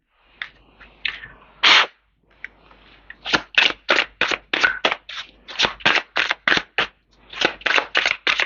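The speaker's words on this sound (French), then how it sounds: "je vais faire une coupe et tirer juste 3 cartes" A deck of Lenormand cards is cut and cards are drawn, making a rapid series of crisp, close snapping and flicking riffles in quick bursts, with brief pauses between them.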